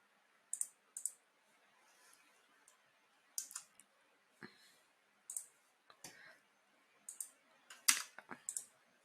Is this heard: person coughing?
no